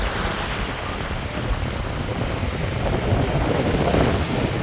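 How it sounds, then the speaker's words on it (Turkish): Strong wind and rough sea waves at an Istanbul beach make a loud, continuous roar of surf with heavy wind buffeting the microphone, swelling slightly toward the end and with no voices. "Rüzgar da artık iyice çoğaldı, dalgalar iyice arttı."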